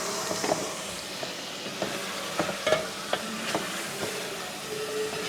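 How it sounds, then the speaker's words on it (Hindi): Cut potatoes fry in masala in a pan, a steady sizzle under repeated scraping stirs and light clinks of a spoon, close by and without speech. "इसको अच्छी तरह मसाले में भून लेंगे अपने"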